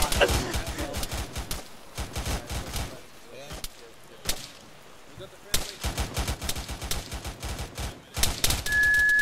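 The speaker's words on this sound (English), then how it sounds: "Are we clear to open fire?" Rapid automatic gunfire crackles through a military video game, with dense bursts of shots, brief lulls, then renewed volleys, loud and close, and voices talking over the fighting.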